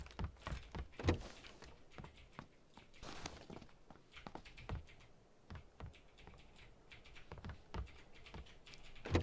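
A loud computer keyboard clatters in steady bursts of typing, close and distinct, with occasional heavier key thumps and no talking over it.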